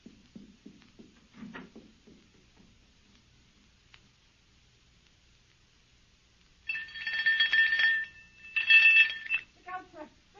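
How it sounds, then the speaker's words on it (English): A doorbell rings in two sharp electric bursts, loud and close, after a stretch of quiet with faint footsteps or knocking before it, in a 1938 radio drama. "Ring the doorbell."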